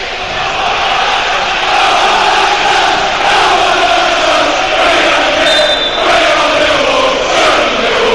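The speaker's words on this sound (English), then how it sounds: "the Millwall crowd have been terrific all day, and they're right behind their team here now" Millwall's home football crowd roars through the 90th minute of a match against Sheffield United with their side leading 3-2, a loud, dense and sustained wash of stadium noise with no break.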